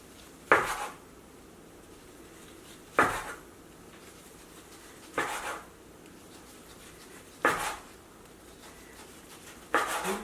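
Knife slicing rolled kimbap into bite-size pieces on a board, five crisp separate cuts spaced roughly two and a half seconds apart, close and clear over quiet kitchen background.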